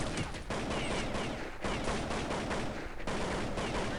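Rapid bursts of gunfire from the video game Counter-Strike fill the whole stretch loudly, with brief gaps between volleys and no talking over it.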